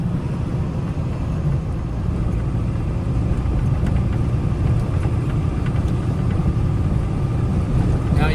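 A car drives through post-fire Pacific Palisades at around 35 mph, giving a steady, continuous engine and road rumble from inside the cabin with no breaks.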